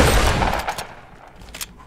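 Gunfire in the Fortnite battle royale video game, a loud burst of rapid shots at the start that fades, followed by a few sparse, fainter pops.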